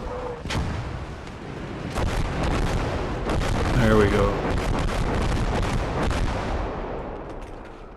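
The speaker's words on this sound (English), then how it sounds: "let's do another salvo of the land mattress" A Land Mattress rocket artillery salvo in Call to Arms - Gates of Hell, a long, continuous roar of launches and blasts that swells in the middle and slowly fades, with a voice briefly speaking at the start.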